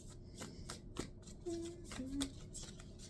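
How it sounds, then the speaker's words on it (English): Tarot cards are shuffled close up in quick riffling bursts, with soft slaps and a couple of brief squeaky scrapes, quiet and alone. "So I'm going to shuffle again and see."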